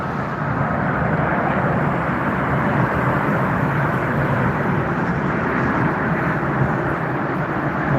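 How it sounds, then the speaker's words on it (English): Singapore Airlines Airbus A380 arriving at Frankfurt Airport, a steady, broad jet roar that holds at constant loudness from a middle distance with no talk. "Singapore Airlines making amazing entry to the Frankfurt International Airport"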